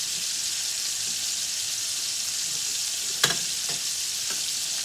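Chicken browning in a frying pan for chicken Alfredo crackles with a constant, even sizzle, broken by a couple of sharp clicks from the pan partway through; nobody speaks.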